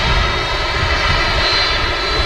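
Airliner with CFM jet engines at Manchester Airport, producing a loud, steady, broadband engine roar with a whining tone, close and continuous with no talking.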